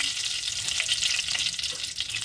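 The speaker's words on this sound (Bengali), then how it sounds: "এবার এই তেলে আমি প্রথমে দিয়ে দেব একটা তেজপাতা আর একটা শুকনো লঙ্কা। দিয়ে একটু নেড়ে চেড়ে" A bay leaf and a dried chilli sizzle in hot oil for a bottle gourd and prawn dish, a constant bright frying hiss close up with faint stirring scrapes, no voices.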